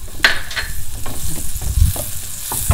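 Butter melts and is stirred in a circular motion in a saute pan over medium-high heat, giving a steady close sizzle broken by soft scraping strokes of the utensil.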